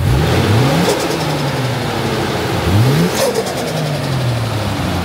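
Turbo dump valve flutter from a Toyota JZX100 Mark II with a custom dose pipe, Blitz front-mount intercooler and pod filter: engine revs rise and fall twice, each lift-off followed by a rapid fluttering chatter of the valve, close and loud.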